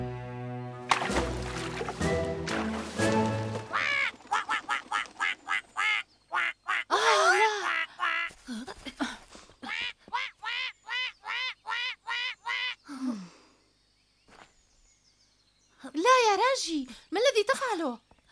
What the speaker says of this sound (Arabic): قد يصيب الحجر البطة ويؤذيها يا راجي